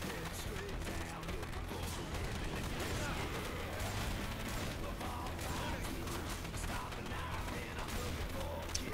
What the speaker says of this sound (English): Let's put on some fireworks.